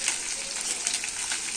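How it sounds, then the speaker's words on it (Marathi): Okra fries with garlic in a pan, giving a steady, close hiss and crackle of sizzling oil that continues evenly throughout. "मस्त लसूण परतून घ्यायचं आहे. भेंडी टाकू आता."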